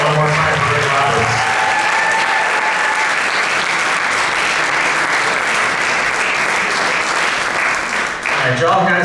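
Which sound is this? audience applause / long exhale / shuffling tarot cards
audience applause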